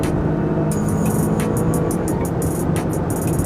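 A 2023 Chevrolet Corvette Z06 in Sport Plus mode cornering at high speed, a steady loud engine drone with tyre and wind noise, broken by rapid high clicks or ticks through the second half.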